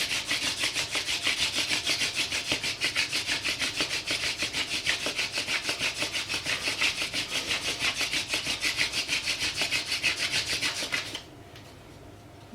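A wooden spindle spins back and forth in a friction fire drill, a rapid, rhythmic scraping rub repeating steadily and close up for about eleven seconds before stopping abruptly into quiet.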